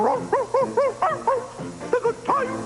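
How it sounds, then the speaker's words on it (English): Dogs bark and yip in a sung, musical pattern in a 1988 McDonald's TV commercial featuring Ronald McDonald and his singing dogs, a quick run of pitched bow-wows rising and falling, loud and close. "The Happy Meal Players present Ronald McDonald and his singing dogs"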